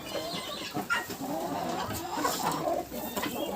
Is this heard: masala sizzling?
no